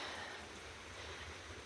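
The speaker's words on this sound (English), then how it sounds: "I don't know how long it's gonna rain." Rain falls steadily on a rainy August day, a faint, even hiss of drops with no distinct pattern and nothing else standing out.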